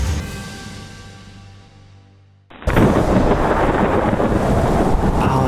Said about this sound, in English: Storm getting ready to push through.